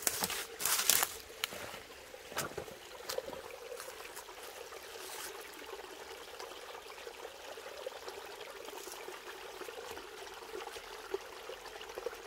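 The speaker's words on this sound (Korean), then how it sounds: "물소리가 좋네." A mountain stream flows steadily in a continuous broadband rush with a few sharper splashes or knocks near the start, heard close by with no one talking.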